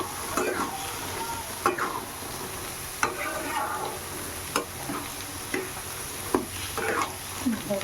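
Cabbage curry (bandhakopir jhal) with ghee and garam masala sizzles steadily in the pan, with repeated scraping stir strokes landing every second or so, close and fairly loud.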